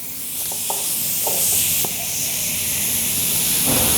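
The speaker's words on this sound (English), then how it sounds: "And then we will pressurize the container with an air chuck." An air chuck pressurizes a spray container of Mopar fabric protector, letting out a loud continuous hiss of rushing air close by, with faint clicks and speech in the background.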